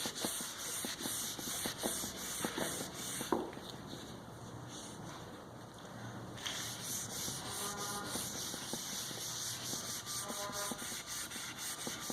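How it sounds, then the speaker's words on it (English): Ebonizing finish being wiped onto curly maple wood, heard as continuous close rubbing and scrubbing strokes with a soft sanding-like texture, steady and fairly quiet throughout. "So you want to get it spread on here nice and even."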